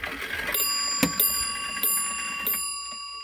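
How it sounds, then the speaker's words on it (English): A loud bell struck several times at a measured pace as a 30-hour Wm. L. Gilbert kitchen clock strikes the hour, each ring sharp and metallic with a long ringing decay, close by. "That is a very, very loud bell."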